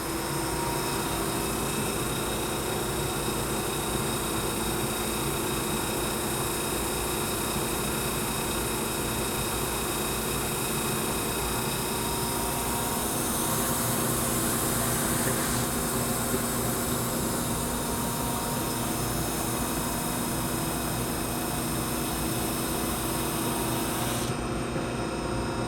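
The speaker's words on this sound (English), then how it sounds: "Right away you can hear the front 80 grit drive roller and sand roller engage." Woodmaster 50-inch dual drum sander with 80 grit front roller and 120 grit rear drum engaging a board, a continuous loud broadband rasp and hum that holds steady, with a slight shift near the end.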